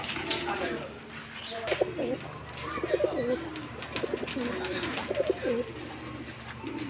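Soft, repeated coos from a pair of racing pigeons murmur under a steady low hum, with a few faint chirps mixed in; the calls come in short, rolling bursts.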